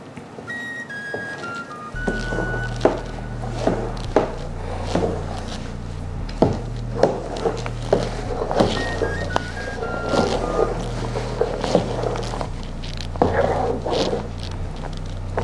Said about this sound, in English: add pepper to your taste, then give this a good mix